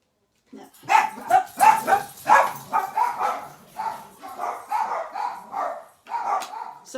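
Guard dogs barking in a rapid, steady run of loud, close barks over about six seconds, with a short pause before a final burst, and no voices alongside.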